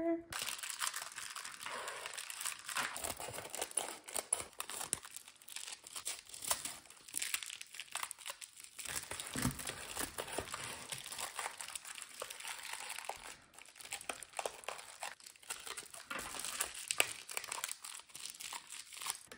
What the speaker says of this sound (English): There are her items all bubble wrapped up, and we'll get this in a box for her.